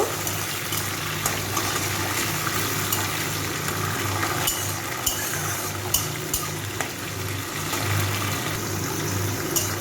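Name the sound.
chickpeas frying in a pan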